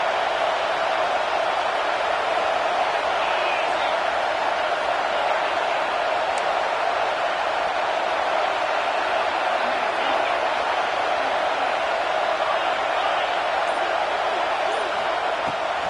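A college football stadium crowd roars for the defense in a steady, dense wall of noise with no break, while commentators speak over it.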